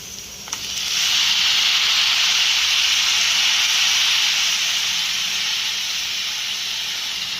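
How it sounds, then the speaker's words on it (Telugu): Amaranth leaves dropped into moong dal frying in a hot pan set off a sudden loud sizzling hiss that swells within a second and holds steady, alone without talk. "ఇప్పుడు నేనైతే తోటకూరని వేసేస్తున్నాను"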